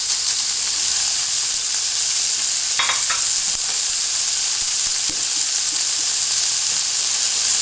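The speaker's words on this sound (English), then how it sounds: "Trying to brown the pork with the vegetables in here and brown it well is kind of difficult" Pork and vegetables fry in a pan with a steady, dense sizzle that runs the whole time, broken by a few brief stirring scrapes near the start.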